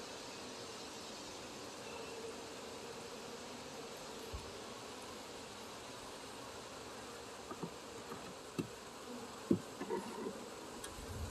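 Honeybees from a hive on a porch buzz in a steady, dense drone that fills the whole stretch, with a few faint knocks and clicks nearby.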